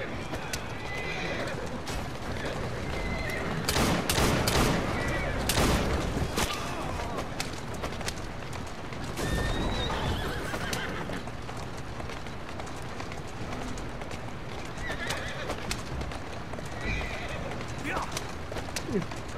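Horses in Assassin's Creed Syndicate whinny and neigh repeatedly over running hoof clip-clops, loud and close, with bursts of louder commotion and a voice talking throughout.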